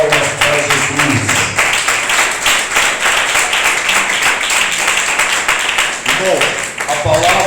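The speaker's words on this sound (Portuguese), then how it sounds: "podem bater palmas para Jesus" Church congregation clapping for Jesus during a sermon, a steady crowd of rhythmic hand claps filling the room with voices mixed in throughout.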